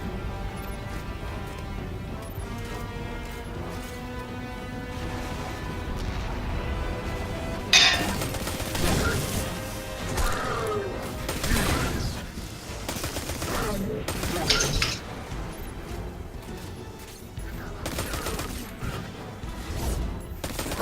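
Rapid bursts of gunfire, with metallic clinks, rattle through a firefight in the video game Destiny 2, loud and fairly close in irregular volleys over a steady game soundscape.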